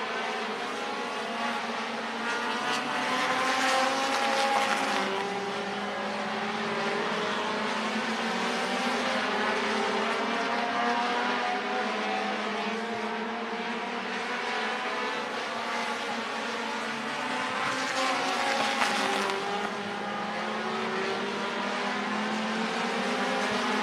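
Late model race cars roar around Slinger Speedway in a steady, loud engine drone that swells and fades slightly as the pack passes, with no talk over it.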